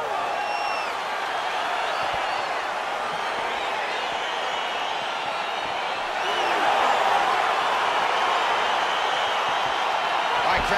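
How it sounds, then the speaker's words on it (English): Video game arena crowd in EA Sports UFC 4 as a fight begins: a dense, continuous roar of cheering that swells slightly partway through, with a commentator talking over it. "Crowd getting excited as this fight gets underway"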